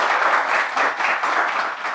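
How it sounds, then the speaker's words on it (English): A live audience gives a warm round of applause to welcome a guest on his first visit to Pakistan, steady dense clapping filling the room for about two seconds without a break. "give him a warm round of applause"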